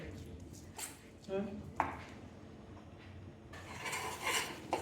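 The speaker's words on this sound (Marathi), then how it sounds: "छान प्रकारे मी हे ढवळते." Ghee residue mixture stirred in a kadhai while making beri vadi, with scraping and clinking of a spoon against the metal pan in a kitchen as someone talks over it.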